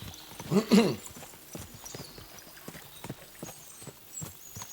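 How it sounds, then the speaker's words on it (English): Hooves clip-clop in a steady, quick rhythm, with a horse snorting loudly near the start, mid-distance and without voices, from galloping horses in the video game Kingdom Come: Deliverance 2. "we'll give the horses a gallop again"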